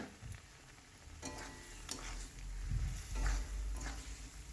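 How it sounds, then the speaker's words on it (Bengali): Fried potato pieces sizzling with spice masala in a pan while being stirred for cauliflower curry, with a steady crackle, a few scraping strokes and low thuds, close by with no talking. "আলুটা দিয়ে মশলাটাকে কষিয়ে নেব"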